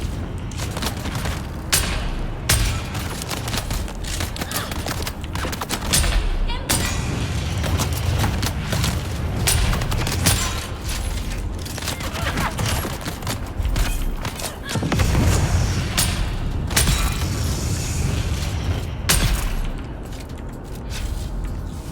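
Gunfire and heavy booms from the video game Dune Awakening rattle in irregular bursts over a dense, rumbling soundscape, with thuds and mechanical clatter mixed throughout a fight lasting over twenty seconds.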